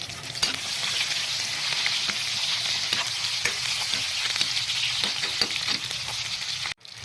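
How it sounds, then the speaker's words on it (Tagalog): Garlic and onion fry in a pan with a constant, close hiss of sizzling oil and frequent light stirring scrapes, which cut off abruptly near the end. "Nagprito nga lang ako dito ng bawang tsaka na nga rin sibuyas"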